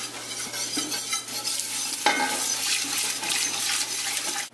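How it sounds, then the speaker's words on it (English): Warmed milk being whisked into a white sauce for squash lasagna, a steady loud sloshing and swishing that churns continuously up close, with no voice over it. "I'm going to add the milk while I'm whisking."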